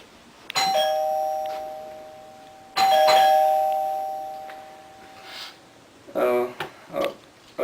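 Two electronic doorbell chimes ring out, each a sustained tone fading slowly, followed by brief voices and rustling near the end.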